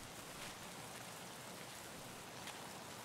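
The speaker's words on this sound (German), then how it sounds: "Ja, der Regen ist ganz gut gerade." Rain falls in Escape from Tarkov as a continuous, even hiss of droplets, with no voices over it.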